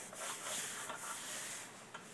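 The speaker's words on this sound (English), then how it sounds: "Just needs a little more sanding." Soft, steady rasping of sandpaper rubbing across a panel, continuous with slight strokes, fairly quiet and close.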